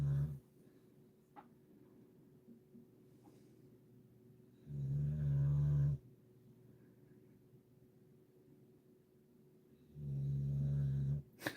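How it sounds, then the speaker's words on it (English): A dog snores nearby in a quiet room, two long, loud, low rumbling breaths about five seconds apart with soft background hiss between them. "The dog's snoring early"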